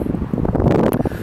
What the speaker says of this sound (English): I think that wind's gonna be a bit too strong.